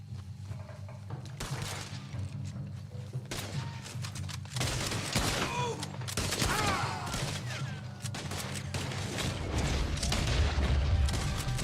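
Cannons fire in a Red Dead Redemption game, producing repeated booming blasts and crackling volleys. The explosions come in close succession over a continuous low rumble of battle noise.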